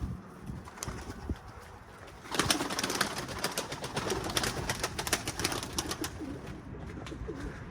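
Arab breed pigeons at an office coop flutter and flap their wings close by, with soft cooing and a burst of wing-clapping after a quieter start.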